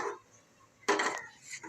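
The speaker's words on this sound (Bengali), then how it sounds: "এখন আমি নামাই দিয়ে কড়াই বসায় দেবো" An iron kadai set down on a stove, a single short metallic clank and rattle, near and fairly quiet, with brief scraping after.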